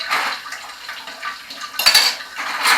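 Soapy dishes clink and clatter as they are lathered and set aside at a kitchen sink, with brief louder knocks of crockery near the end and a faint wash of water.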